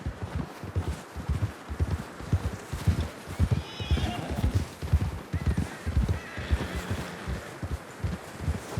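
Rapid hoofbeats of a galloping horse in the video game Red Dead Redemption 2, steady and close, with a couple of loud whinnies breaking through partway along.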